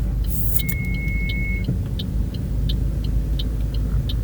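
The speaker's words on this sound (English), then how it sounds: "the cars that keep coming, they're going very slow" Slow-moving cars on a busy street in Honolulu, Oahu, heard from inside a vehicle as a steady, loud low rumble of engines and tyres, with faint regular clicking ticks throughout.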